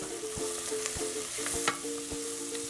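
Chili vegetables and spices sauté in a pan under a constant sizzle, while a spoon stirs them with soft rhythmic scrapes and taps at regular intervals.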